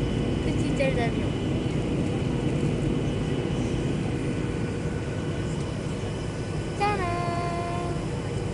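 Steady broadband roar of airplane engines heard inside the passenger cabin during a flight to the Canary Islands, constant and loud throughout, with brief tonal chimes or voices surfacing over it.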